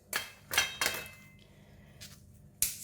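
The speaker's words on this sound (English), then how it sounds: "before we slice it, we're going to remove the outer skin first" A knife cuts the outer skin off an arrowhead tuber, giving a few sharp, crisp cuts and scrapes in an irregular rhythm with quiet gaps between them, close up and otherwise calm.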